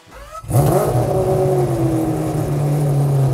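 A race car engine is revved at partial throttle, rising from near silence into a loud, steady, close-up roar with a strong low hum and whirring overtones that holds for several seconds with no talking.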